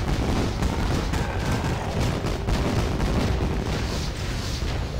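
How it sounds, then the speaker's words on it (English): Fireworks going off in a video game match finale, a continuous loud rumble of booms and crackles layered densely together with no breaks. "And we have Fireworks."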